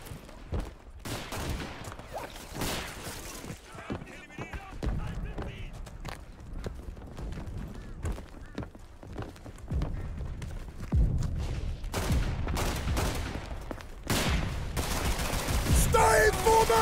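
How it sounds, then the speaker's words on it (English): Smoke rounds fired in a World War One battle video game, as repeated booming shots and rolling gunfire sound around a fortified stronghold, with shouted radio-style voices over the din. "Understood. Firing smoke rounds."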